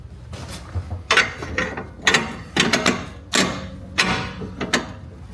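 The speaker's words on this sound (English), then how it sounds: "now we can jack this one back up" A car jack is pumped to raise a BMW X5M during a Dinan lowering spring install, giving a series of loud, close ratcheting clicks and mechanical clunks in an uneven rhythm, with no talking.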